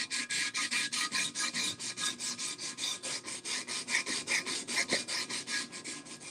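Sandpaper worked by hand over cast iron makes rapid, rhythmic back-and-forth rasping strokes, about five per second. The sound is close and steady, with no talk.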